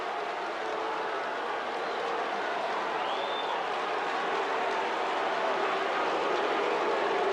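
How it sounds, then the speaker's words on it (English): Hurling crowd at a 1987 National League quarter final, Limerick against Tipperary, boos a referee leaving the field: a steady, dense roar of disapproval from the stands, continuous and fairly loud for several seconds. "You can hear it for yourself, the booing that greets Jimmy Carroll as he leaves the field"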